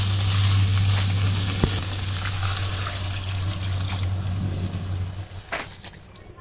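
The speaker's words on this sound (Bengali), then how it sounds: "এখন আমি জল দিয়ে দিব।" Water pours into a pan of vegetables frying for a village-style magur fish curry, a steady close gush and trickle over a low hiss of sizzling that fades toward the end.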